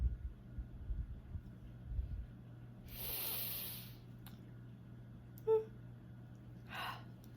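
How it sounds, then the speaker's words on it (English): A person yawns, a single long breathy exhale in the middle, with softer breaths and small sounds after it. "Sorry about the yawning."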